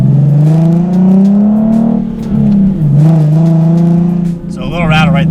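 Nissan 370Z with a loud exhaust driving with the windows up, steady engine drone rising and dipping through gear changes, with a slight rattle faintly under the engine noise near the end.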